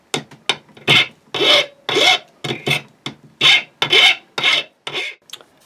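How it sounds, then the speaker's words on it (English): Flat steel file rasping burrs off freshly cut metal, a series of about a dozen short, rhythmic strokes, close and loud with brief pauses between them. "So we're just going to take a flat steel file and just take off those burrs."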